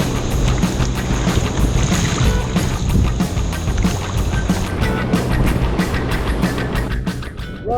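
A sea kayak paddles on the ocean in Sydney Harbour near the cliffs of North Head, with loud continuous wind and water rush and regular paddle splashes close by, no talk.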